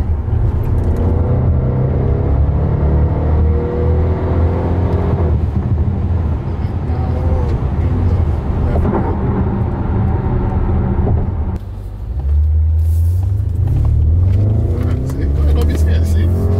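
A car pulls hard under acceleration on a test drive, its engine note rising in sweeping climbs, dipping briefly, then surging again, loud inside the cabin with people talking over it.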